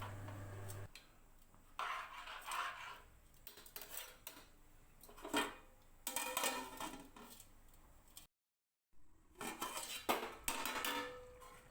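Rice being stirred in a pot of boiling water, with intermittent scraping and clinking of a spoon against the pot in uneven bursts, a brief silent gap midway, no voices.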